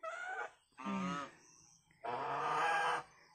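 Three loud, harmonic honking calls from geese close by in Batac City, Ilocos Norte, with short pauses between them; the last call is the longest and most nasal.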